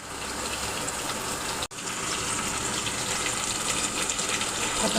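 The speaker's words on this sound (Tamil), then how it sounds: "கொத்தமல்லி கழுவி போட்டுக்கோங்க." Tap water gushing steadily while coriander is rinsed for a mutton curry, a close hissing splash that stops for an instant and then runs on loudly.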